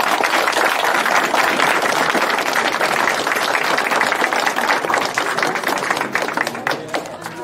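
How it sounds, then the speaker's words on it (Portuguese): An audience applauds at an evangelical gathering after a call to praise the Father, Son and Holy Spirit. Dense, steady clapping runs throughout and thins slightly near the end. "Peço o aplauso de vocês."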